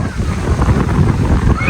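Strong wind buffets the microphone at a beach with rough waves, a loud continuous low rumble and wash of surf close by, while faint talk sits underneath.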